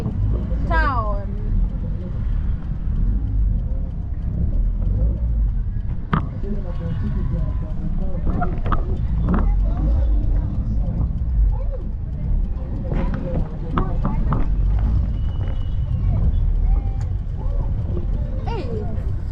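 Road traffic rumbles through a developing town, with a continuous low engine drone, passing vehicles and scattered clacks and horn-like tones, while people talk over it.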